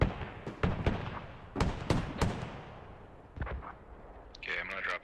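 Mortar fire in a tactical shooter video game scrim lands as a string of sharp, booming blasts. The reports come in irregular clusters at close to middle distance, and a voice briefly comes through near the end.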